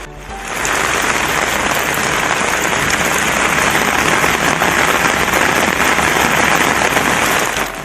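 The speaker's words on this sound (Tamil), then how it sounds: "ஆகிய இடங்களில் தொடர்ந்து மழை பெய்து வருகிறது." Heavy rain pours down steadily in Tiruvarur, a dense, loud hiss of drops striking surfaces that fills the whole span after a brief quieter start, with no voices.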